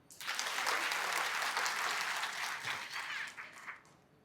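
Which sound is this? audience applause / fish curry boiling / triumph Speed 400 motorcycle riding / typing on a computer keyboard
audience applause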